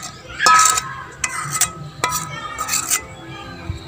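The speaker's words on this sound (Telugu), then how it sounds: "ఇప్పుడు చూడండి, వంకాయ ముక్కలు వేసుకుందాం అందులోనే" Brinjal pieces being tipped into a pan of tomato pieces for a pounded chutney, a few clattering metallic clinks and scrapes in quick bursts, close and fairly loud.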